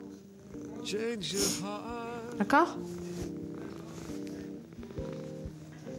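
A cat purrs softly while being cuddled and petted at home, a low steady rumble that sits beneath a voice and a child's sounds, with brief louder vocal bursts in between.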